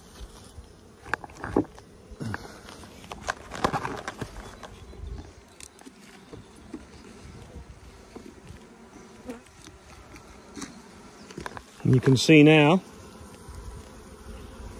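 Honey bees buzz softly around an opened hive being worked with a little smoke, a faint continuous hum broken by handling knocks, and a person speaks briefly before a loud close buzz near the end.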